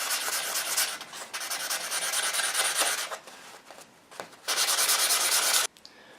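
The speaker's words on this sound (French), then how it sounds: "J'essaye de bien affûter tous les bords de ma cuillère." A leather repoussé spoon tool being sharpened on an abrasive surface: close, steady rasping strokes in long bursts with short pauses between them, no talking.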